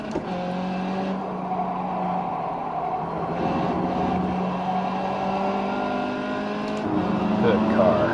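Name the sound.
race car engine in iRacing video game, Nürburgring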